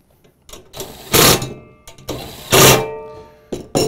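Parts of a stabilizing platform for a folding machine are screwed together, with several short, loud whirring bursts of fastening separated by brief quiet gaps.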